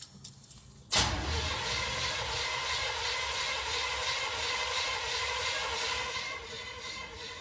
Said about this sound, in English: it didn't crank over the first time